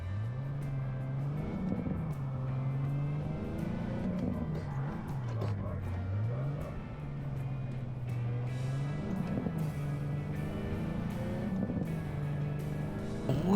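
A car engine in the Cyberpunk 2077 game drones steadily while driving through Night City, its pitch rising and dipping with repeated revs and shifts, moderately loud and continuous.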